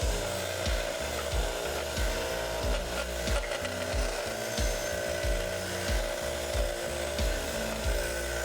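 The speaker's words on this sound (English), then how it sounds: "I'm going to file out where the tomahawk handle slides in" A metal file rasps steadily across a forged double-bit tomahawk head clamped in a vise, with repeated rhythmic strokes about twice a second, close and loud.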